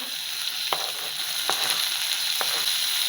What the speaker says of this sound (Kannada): ಇದು ಸ್ವಲ್ಪ ಫ್ರೈ ಮಾಡ್ಕೊಳ್ಳೋಣ.